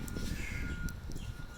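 Crows caw outdoors by the river at a waterside bar in Homosassa, with a few harsh calls over a steady, busy background rumble.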